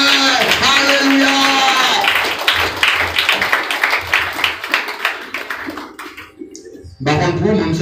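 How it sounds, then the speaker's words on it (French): A church congregation claps along during worship, with a dense burst of rhythmic hand claps mixed with voices that fades out and then briefly returns near the end. "Applaudissez le Seigneur."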